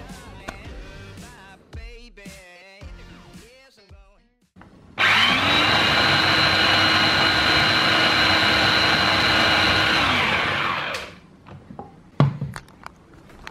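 A countertop blender roars to life and grinds a protein shake with whey powder for about six seconds, a loud steady whine that winds down, preceded and followed by light handling clatter and a voice.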